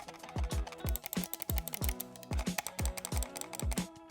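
Rapid clicks of a lightweight wireless gaming mouse with a hollow-feeling shell, sounding as a steady, close run of sharp taps, about two or three per second, with no speech.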